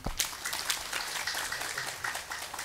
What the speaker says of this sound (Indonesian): tepuk tangan untuk Demak